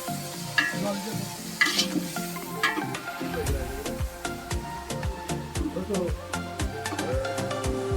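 Food is stirred and fried in a pot during a late-night outdoor picnic, with sizzling and clanking utensil strikes set against background noise and faint voices.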